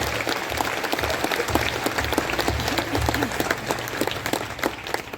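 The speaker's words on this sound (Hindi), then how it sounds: "आइए हम जोरदार ताली बजाकर स्वामी जी का स्वागत करें" An audience at a Catholic feast-day Mass for Our Lady of Lourdes applauds loudly to welcome the bishop, with steady, dense clapping that fills the whole stretch without a break.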